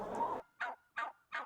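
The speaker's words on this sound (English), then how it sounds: "50 turkeys." Turkeys on a small farm give a loud gobble followed by three quick rhythmic gobbles close by, with no talking.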